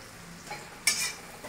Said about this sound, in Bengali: তো এবার আমি পেঁয়াজটাকে ভালো করে ভেজে নেব।